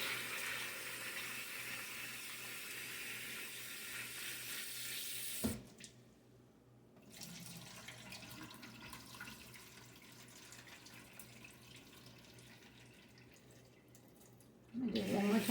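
Tap water pours into a sink over split peas being rinsed, a steady hiss that cuts off briefly, gives way to quieter swishing and handling, then surges back on at the end.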